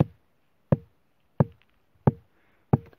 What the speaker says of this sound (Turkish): çok dolu bir boşluk sesi geliyor